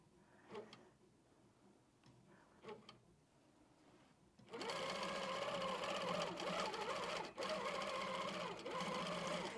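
An HQ Pro-Stitcher computerized quilting machine stitching an edge-to-edge design: a few faint ticks and clicks, then the machine starts up and runs with a steady, close mechanical whir and rapid needle chatter.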